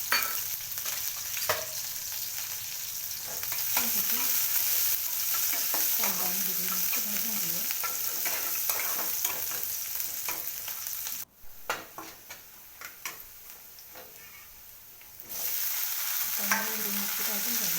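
Finely chopped onion and green chillies fry in hot oil with toasted mustard seeds, a steady close sizzle with spoon stirring scrapes throughout, briefly quieting near the end before the frying noise returns.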